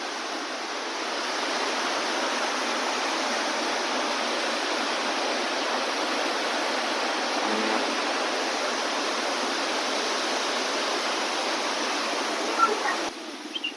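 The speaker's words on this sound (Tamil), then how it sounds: "அங்கங்க ஒரு வாட்டர் ஃபால்ஸ் குட்டி குட்டிக்காவே இருக்கு" Small waterfalls at a resort near Munnar pour in a steady, broad rush of falling water, constant and fairly close, with no voices over it.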